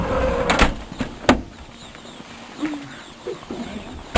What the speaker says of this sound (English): So, the door comes here, and the door gets closed.